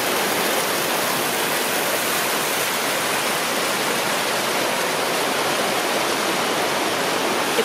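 Cold stream water flowing into a natural hot spring in Idaho, a loud, steady, close rushing wash of water with no pauses.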